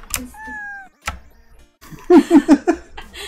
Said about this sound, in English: Press space to meow.